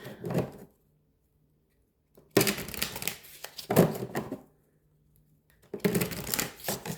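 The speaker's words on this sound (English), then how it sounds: "I'll give it one more shuffle." Tarot cards are shuffled in several quick riffling bursts separated by silent pauses, close and crisp.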